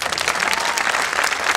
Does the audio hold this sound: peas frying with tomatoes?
no